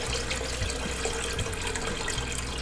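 Chicken broth keeps pouring into a pot on the stove while making chicken soup, a continuous near splashing stream of liquid filling the pot, heard alone.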